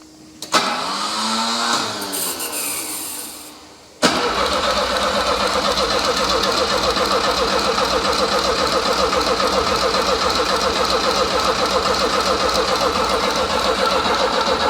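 A Volvo P1800 parked for 25 years is cranked by its starter. A brief whirring attempt is followed by a steady, loud, rapid rhythmic cranking that carries on without catching.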